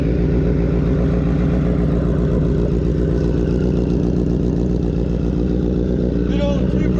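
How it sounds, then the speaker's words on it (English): A Duramax diesel truck engine breathing through a Two Brothers aftermarket exhaust, idling with a steady, deep rumbling drone close by, lasting throughout without pause. "Good old Two Brothers exhaust. Always beautiful to hear that sound."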